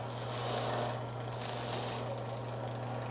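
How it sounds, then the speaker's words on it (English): A 3-inch-wide Scott Murray grinding wheel with about 80 grit shapes a rifle recoil pad, giving a steady loud hissing grind with a constant motor hum underneath, two brighter surges of abrasion, and no talking. "I'm going to switch over to the next system, which is a 3-inch wide Scott Murray wheel, and I'll start with about an 80 grit."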